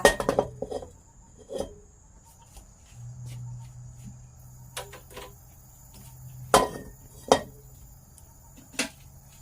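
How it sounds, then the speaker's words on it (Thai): A pan clanks and clinks on a gas stove in scattered sharp knocks, with a faint steady hum between them. "ตั้งกระทะค่ะ"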